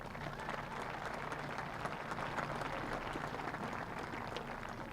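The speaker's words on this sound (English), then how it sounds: "Let's give them one more round of applause." A graduation crowd applauds supporters in a large venue, a continuous, distant-sounding wash of clapping that holds at an even, fairly soft level throughout.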